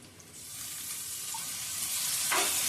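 Spices with turmeric and salt sizzle in a pan, a soft, steady frying hiss that grows slightly louder near the end, with no talking.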